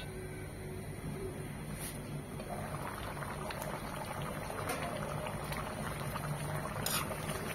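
Chicken curry simmering in a pot makes a steady, close bubbling and gentle boiling that runs evenly throughout with no voices.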